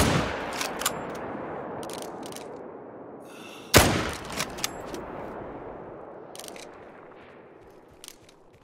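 Several sharp video game gunshots from an FL Sporter .303 rifle crack out over a steady hiss, with one louder blast midway and scattered fainter shots before and after.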